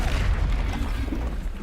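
A Confringo blasting spell goes off in the Hogwarts Legacy video game as one loud, dense boom with a rumbling tail, mixed with a voice.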